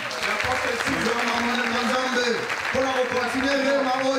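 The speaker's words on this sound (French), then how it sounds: "Sous vos acclamations" A church congregation applauds and cheers, the clapping steady under loud shouting and chanting voices that rise and fall across the moment.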